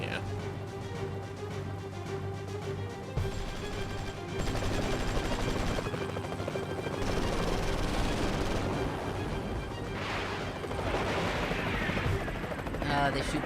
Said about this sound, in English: They shoot bottle rockets